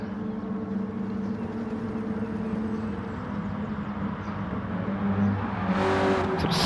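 Renault Clio Cup race cars in GT Sport run a steady, droning engine note through a final bend and onto the start-finish straight, swelling louder near the end as the cars close in.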